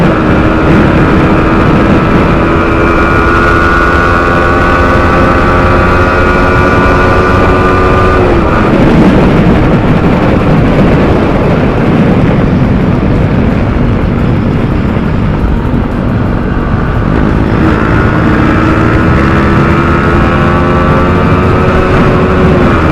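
A KTM Duke 250 and a GT650 motorcycle drag race on a rough road. Loud, continuous engine roar climbs in pitch through several gear shifts, eases in the middle, then rises again.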